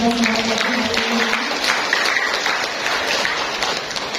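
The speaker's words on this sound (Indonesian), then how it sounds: "Beri tepuk tangan dulu dong" An audience at a family planning and stunting reduction program event in a hotel in Jember claps together, a dense burst of applause with some mixed voices at first, tapering slightly toward the end.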